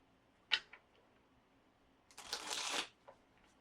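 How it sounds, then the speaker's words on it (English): Tarot cards are shuffled by hand in a quiet room: a short crisp riffle snap, a pause, then a longer papery riffle lasting under a second, close and soft, with no talking. "One more shuffle."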